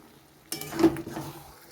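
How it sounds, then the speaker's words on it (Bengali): A spoon stirs tomatoes in a pan while a banana flower dish cooks, scraping and clinking against the metal over a soft background sizzle, close up with no voices. "নেড়ে চেড়ে নেব, টমেটোটা যাতে একটু গলে যায়, তাই আরও কয়েকবার কষিয়ে নেব"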